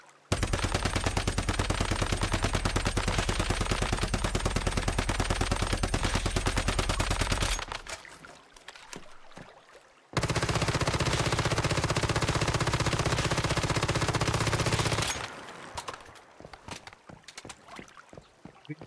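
Sustained rapid automatic gunfire in the video game Once Human comes in two long, loud, dense bursts. Quieter clattering gaps separate them, with no talk.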